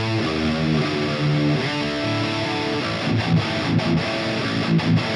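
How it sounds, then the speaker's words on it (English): A distorted electric guitar played through a Fryette Deliverance 2 Plus tube amp and a preamp chugs out loud, crunchy chords and palm-muted riffs with sharp staccato stops near the end, with no one talking. "What I have here is a distorted guitar signal,"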